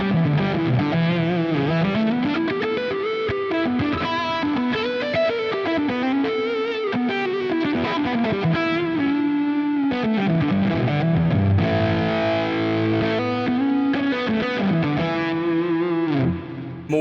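Electric guitar played through fuzz models on a Line 6 Helix, thick distorted sustained notes and sliding bass-register lines, loud and saturated throughout with no talk.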